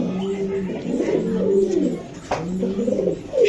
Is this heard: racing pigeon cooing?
yes